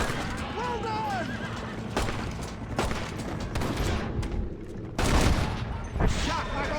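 Gunfire bursts out in the western video game Red Dead Redemption amid neighing horses and clopping hooves, several sharp shots scattered over the scene with characters shouting over the action.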